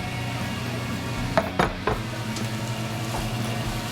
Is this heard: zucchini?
yes